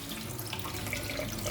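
Tap water runs steadily into a sink as a sweet potato is rinsed beneath it, a close, continuous splashing rush with no speech.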